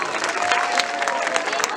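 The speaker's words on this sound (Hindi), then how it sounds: "बहुत जोरदार ताली बजाइए" Audience applause for a woman reciting a Hindi poem at a poetry event, dense continuous clapping from a sizeable crowd, fairly close and steady throughout.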